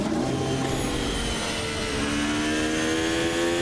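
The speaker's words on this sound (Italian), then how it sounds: "partiamo subito con l'accensione del nostro motore virtuale" A virtual Formula 1 car engine in a racing sim set at the Hungaroring fires up and settles into a steady, loud droning whine with rising harmonic tones, heard alone.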